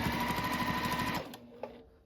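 A sewing machine stitches binding onto a quilt edge, running steadily with a fast, even mechanical clatter for over a second before stopping, followed by a brief faint click.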